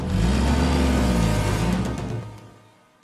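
A car revs and pulls away, its engine loud and rising at first, then fading steadily as it drives off into the distance.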